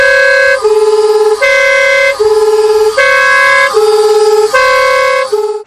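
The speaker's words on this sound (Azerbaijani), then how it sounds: "istifadəsinə qadağa qoyulan səs siqnalı da quraşdırıb" An illegal aftermarket horn fitted to a car blares a loud, close two-tone signal, alternating high and low pitches in a fast repeating wail for several cycles.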